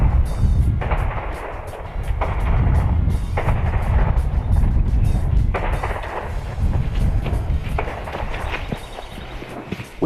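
Outdoor shooting of a .25 Hatsan Invader semi-auto PCP air rifle firing slugs, several loud close thumping reports spaced a couple of seconds apart over wind and handling noise.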